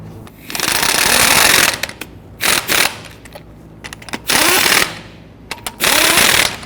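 An impact wrench snugs down lug nuts on a 2010–2019 Ford Taurus front wheel after a hub assembly replacement, with loud bursts of rattling hammering alternating with brief pauses, close up and without speech.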